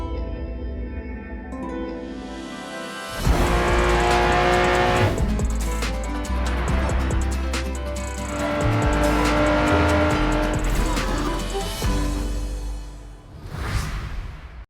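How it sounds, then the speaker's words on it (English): Racing engine of a 1998 Lamborghini Diablo Superveloce in the mobile racing game Racing Master, roaring and revving loudly with tire squeal and whooshes, a quieter opening, then sustained high-speed driving and a final rev burst. "the 1998 Lamborghini Diablo Superveloce."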